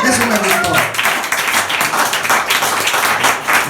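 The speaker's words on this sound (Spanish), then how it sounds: "Otro aplauso a Cristo." Continuous applause from a church congregation, dense and steady throughout, with voices mixed in underneath.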